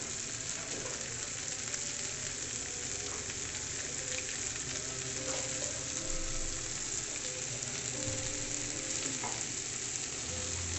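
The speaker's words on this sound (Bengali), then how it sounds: "দিয়ে ভালোভাবে সটেট করে নেব, যেন আমাদের সবজির কাঁচা ভাবটা সম্পূর্ণভাবে চলে যায়" Vegetables for Indian-style white sauce pasta sautéing in a pan with salt and pasta masala, a steady sizzle and fry running throughout with occasional stirring scrapes.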